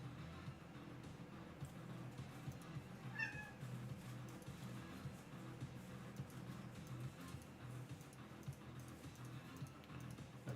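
A house cat lets out one short, faint meow partway through, set against a steady low background hum.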